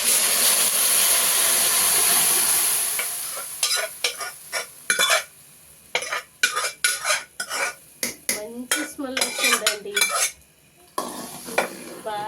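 Cooked dal poured into a pot of bottle gourd after tempering, a loud steady sizzle that cuts off, followed by irregular clattering, scraping and clinks of utensils against the pot.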